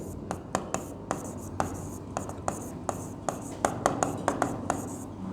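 Chalk or marker taps and scratches on a board in a geography class, a series of sharp short strokes at an uneven pace, moderately close, with a teacher's faint voice underneath.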